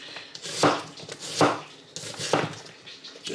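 A knife chops through onions on a cutting board in three distinct, sharp thuds spaced about a second apart, close and clear with quiet kitchen background.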